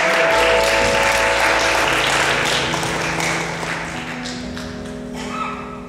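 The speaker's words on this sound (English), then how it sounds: "Let's welcome him with a clap offering." Sustained applause from a church congregation welcoming a visiting preacher, dense and steady throughout, tapering slightly toward the end.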